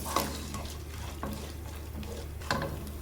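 Chana dal, masoor dal and peanuts stir-fried in a pan for lemon rice: a steady oil sizzle broken by a few scraping stirs of a utensil, close and moderately loud, no voices.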